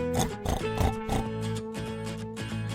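A pig's short grunting oinks sound in an animal-learning sequence, several rough bursts in quick succession, loud and close, with a steady musical backing underneath.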